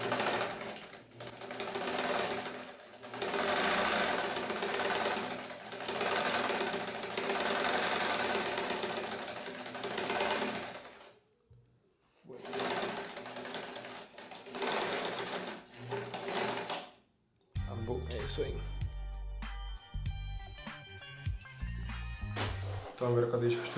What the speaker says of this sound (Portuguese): Então agora eu acabei de costurar essa parte aí.